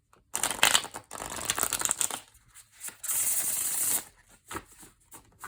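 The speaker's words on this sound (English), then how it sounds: "It shuffles great. You hear that? Oh, I love that sound." Tarot cards being riffled and shuffled in quick crackling bursts, loud and close, with short pauses between rounds and no voices.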